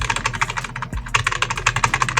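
Rapid, close gaming keyboard typing, a dense run of clacky key presses with a brief pause and a thud midway before the typing resumes.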